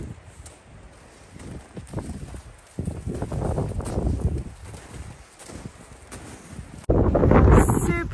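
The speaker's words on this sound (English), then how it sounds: "Super windy today." Strong wind gusting over an empty mountain ski slope, rumbling and buffeting a close microphone, surging loudest near the end, with faint footsteps of someone walking uphill.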